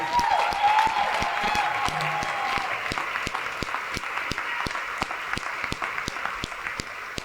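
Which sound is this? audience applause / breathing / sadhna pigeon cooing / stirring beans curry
audience applause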